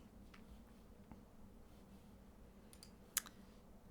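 A single sharp mouse click on a continue button in accounting software, a brief isolated tick over quiet room hiss, with a couple of fainter clicks just before it.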